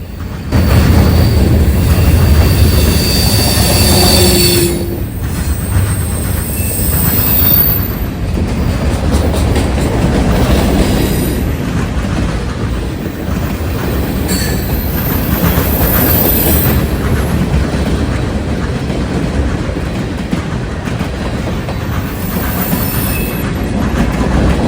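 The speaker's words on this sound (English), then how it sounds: "Norfolk Southern Train 117 was next in line, heading northbound up the Sandusky District" Norfolk Southern mixed freight train 117 rolling northbound through Marion, Ohio on the Sandusky District, a loud continuous rumble of railcars with wheel clatter and faint squeals throughout.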